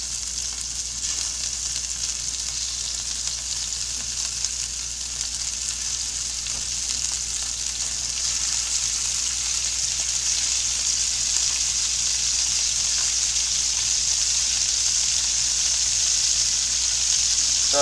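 Beef sears in a hot pan for a beef bourguignon, giving a steady, even sizzle that holds at a constant level close by with no talking.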